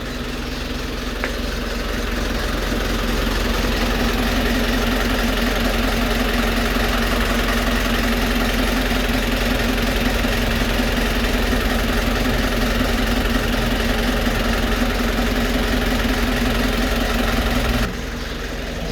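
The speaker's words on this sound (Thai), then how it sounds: "เสียงเครื่องยนต์เงียบมากนะครับ" A Nissan Big-M pickup's 2500 engine idles at a steady, even hum with a low, constant drone and no talking, cutting off abruptly near the end.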